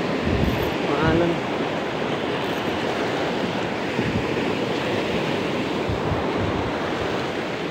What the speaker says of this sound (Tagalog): Mga alon.